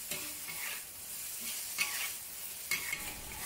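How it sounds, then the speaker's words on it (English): Asparagus and chicken stir-fried in a wok over high heat: a steady sizzle with a few quick scraping stirs and flips, close and moderately loud, no talking. "Give it a few quick stirs and flips over high heat and dish out immediately."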